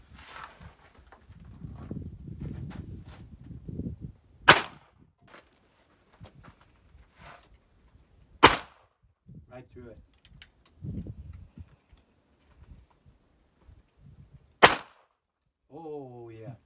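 Three sharp gunshots crack out during outdoor target shooting, spaced several seconds apart, each loud and abrupt against quiet gaps, with people talking softly between the shots.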